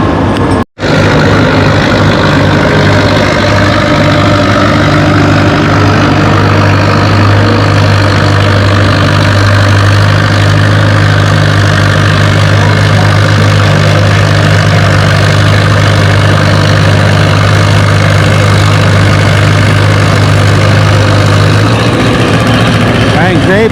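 A 44 diesel special tractor roars under heavy load at an outdoor fall tractor pull in Lynden, a loud, sustained low drone that holds steady for most of the run before easing off at the finish.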